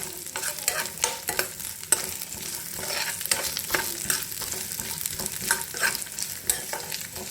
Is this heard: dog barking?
no